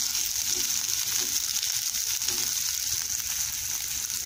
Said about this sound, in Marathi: त्याच तेलात गवारी घालायचं आणि गवारी मंद आचेवरती खरपूस भाजून घ्यायचं